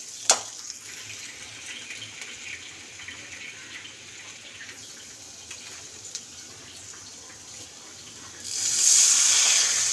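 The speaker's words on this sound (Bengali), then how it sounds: "তো এবার আমি ডাল সিদ্ধটা দিয়ে দেবো মধ্যে।" Boiled mung dal goes into a pan of fried spices, a soft sizzle giving way to a louder gushing, bubbling wash of liquid near the end, with no talk.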